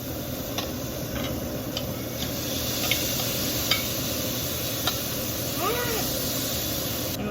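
Shrimp sizzling in a hot pan for taco filling, a steady hiss with scattered sharp pops and ticks of spattering oil throughout, close by.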